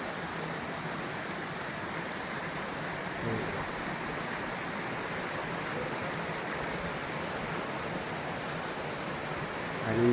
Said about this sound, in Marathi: मी जिथे उभा आहे त्याच्या खाली ओढा आहे